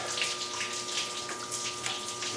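Antifreeze pours out of a 2002 Ford F-250 Super Duty in a steady splashing gush onto the floor, continuous and close for a couple of seconds, with no talking.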